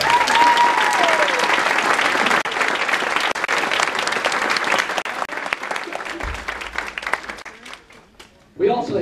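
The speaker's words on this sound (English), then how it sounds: "Let's join in applauding these people." Audience applause at a Jaycees 50th anniversary celebration, dense sustained clapping from a large crowd that fills most of the stretch, thins out near the end, then swells again briefly.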